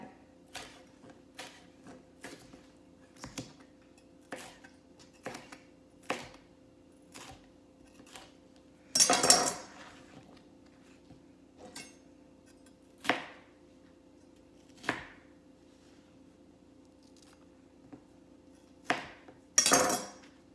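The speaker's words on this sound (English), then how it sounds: "I'm going to take just a little bit of that ribbing off." Sharp knife trimming the inner ribs from a bell pepper: a sparse series of crisp taps and knocks on a cutting board at irregular intervals, with a couple of louder scraping cuts over a faint background hum.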